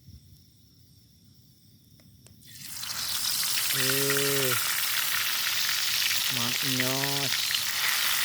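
Quail meat hits a hot pan and sizzles loudly and steadily, the frying rising suddenly and continuing while someone speaks briefly over it.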